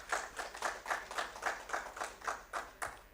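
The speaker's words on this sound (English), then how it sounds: "Let us welcome Dr. Ouma with a round of applause." An audience at a pensions policy dialogue in Uganda claps in a slow, regular rhythm of about a dozen evenly spaced beats, welcoming a speaker to the stage.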